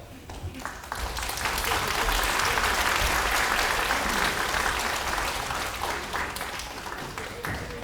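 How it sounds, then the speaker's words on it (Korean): Sustained applause from a seated audience at a residents' briefing on a redevelopment plan in Korea, swelling after a second and continuing steadily for several seconds, filling the hall. "첫 번째 순서로 주민 대표단 분들을 박수로 모시겠습니다."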